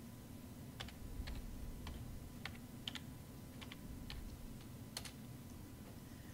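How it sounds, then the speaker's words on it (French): A password typed on a computer keyboard, with scattered, quiet key clicks at an uneven pace over a low steady hum in a quiet room. "Donc, je vais taper le mot de passe de Pôle invisible."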